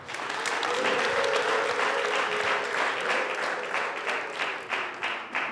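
Wedding guests burst into sustained applause, a dense, loud wash of clapping from a large crowd that holds steady before thinning slightly at the end, with faint voices mixed in.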